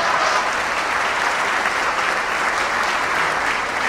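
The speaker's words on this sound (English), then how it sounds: "How about a round of applause for Michelle Obama?" Full room of gala guests in Toronto applauding strongly, a dense, steady roar of clapping that holds evenly for several seconds with no voices over it.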